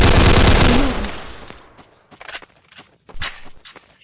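Gunfire in a Roblox video game comes as a loud rapid burst of shots that fades, followed by a few sharper isolated shots with no talk.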